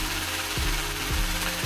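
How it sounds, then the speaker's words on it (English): A mining drill in a video game runs steadily with a loud, grinding mechanical drone, pulsing in regular surges roughly every half second, heard alone without talk. "So, this is the drill"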